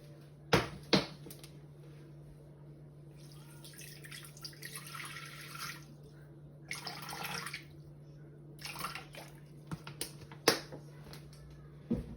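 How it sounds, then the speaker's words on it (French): Water is poured into a Thermomix TM6 bowl for a Tunisian fricassé dough, heard as short, fairly faint splashing pours with a few small clicks and knocks in a quiet kitchen. "je vais commencer par mettre 200 g d'eau"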